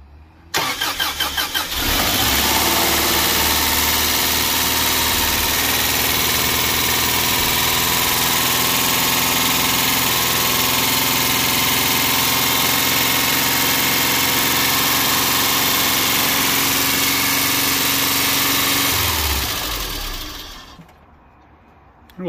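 A turbo-converted Subaru EJ22T engine in a Legacy cranks and catches, then idles loudly and steadily for nearly twenty seconds before shutting off.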